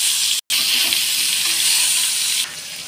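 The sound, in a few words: onions frying in a pan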